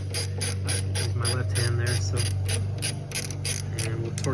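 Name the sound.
wrench torquing camber plate fasteners on BMW M2CS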